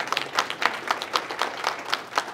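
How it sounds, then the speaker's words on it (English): An audience applauds a team at a seminar event, with steady, dense clapping throughout at moderate loudness. "Let's give a round of applause for all SaveMax team"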